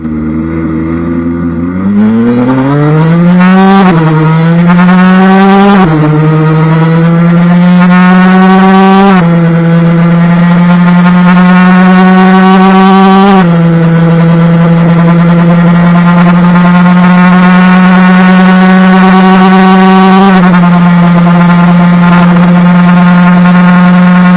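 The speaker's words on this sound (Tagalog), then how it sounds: "Grabe, talagang napaka-solid ng Suzuki RG150R na 2-stroke engine na ito." A Suzuki RG150R 150cc two-stroke motorcycle engine revs hard and close, with sharp throttle blips that rise to a high, sustained buzzing whine and then hold steady, loud and alone without speech.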